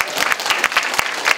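Clapping from a crowd fills the whole moment, dense and steady, with a few sharper claps standing out near the end.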